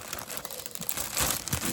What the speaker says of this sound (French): c'est mon chat qui est en train de gratter son carton.